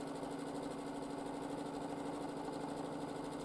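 A sewing machine doing free-motion quilting, its fast steady needle chatter and motor hum running continuously and evenly at a moderate, close level with no pauses.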